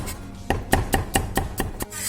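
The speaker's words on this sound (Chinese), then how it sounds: "红椒切成块儿，再切点姜片儿、蒜片儿" Seven crisp knife chops on a cutting board, cutting red pepper, ginger and garlic, evenly spaced in a steady rhythm, close up with no voices.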